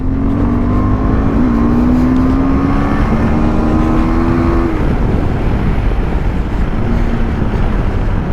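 A car climbing the mountainous Leh-Manali Highway with ABS switched off for off-road driving: a loud, steady engine drone whose pitch rises slowly and then drops, with constant road and wind rumble and no talking.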